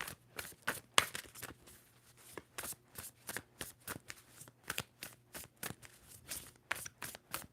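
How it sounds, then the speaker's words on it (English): Rapid, repeated riffling of a tarot deck, crisp papery bursts coming in a quick rhythmic series, close and fairly quiet. "Two more shuffles for Capricorn."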